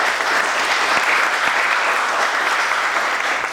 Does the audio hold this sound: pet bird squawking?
no